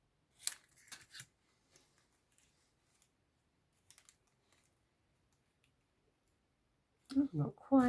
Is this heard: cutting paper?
yes